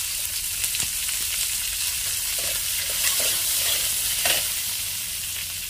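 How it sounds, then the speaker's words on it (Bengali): Chopped onion frying in oil with cumin, a constant bright sizzle close up, with the spatula scraping and knocking against the pan several times as it is stirred. "তো এই যে জিরাটা ভাজা হয়ে গেল, এবার পেঁয়াজ কুচিটা দিয়ে দেবো।"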